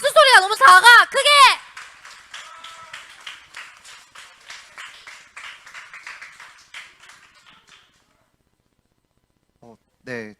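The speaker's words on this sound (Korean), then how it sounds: "박수 소리가 너무 작아. 크게!" Children at a Korean junior church Sunday service clap after loud shouted voices open the moment; a quick, rhythmic run of claps follows and gradually fades out, then a brief voice returns near the end.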